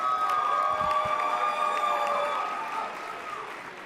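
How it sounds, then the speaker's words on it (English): A conference audience at a plenary session gives steady applause that holds for a few seconds and then gradually tapers off. "All right, let's give them a round of applause."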